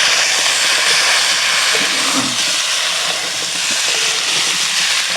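Boiled sweet potatoes, washed and dropped into a hot pan, give off a loud, steady frying hiss that fills the whole stretch with no talking.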